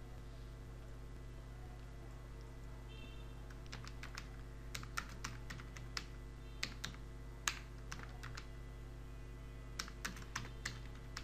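Keys are tapped on a computer keyboard while writing text in Microsoft Word: scattered single keystrokes and short bursts of clicks over a quiet room hum. The clicks are close and fairly soft, with no talking.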